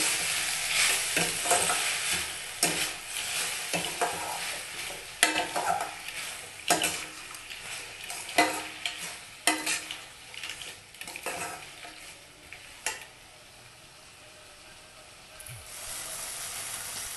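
Onions being sautéed and stirred in a pan for onion sambar, with repeated scraping strokes of a spoon against the pan over a steady soft sizzle that fades toward the end, close and alone.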